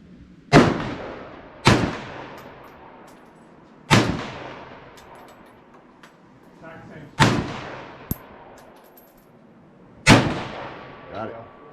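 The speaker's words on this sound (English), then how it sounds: "Firing now is Brandon." A 1907 Remington Model 8 autoloading rifle in .25 Remington fired outdoors, five loud sharp shots spaced a few seconds apart, each with a short echoing tail, plus faint background sounds between them.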